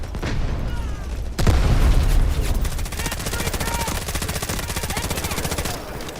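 Gunfire in the Delta Force video game: a heavy boom, then a dense, steady stream of rapid automatic shots lasting several seconds at close range, loud and continuous.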